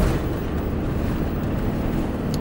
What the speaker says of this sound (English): we'll just drop it down into third, accelerate out nicely, 40 mile an hour, into fourth